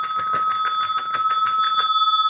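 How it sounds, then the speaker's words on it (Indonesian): Rapid series of about a dozen bright bell strikes, like a bicycle bell rung repeatedly, loud and close, stopping abruptly and leaving a short ringing decay. "lonceng."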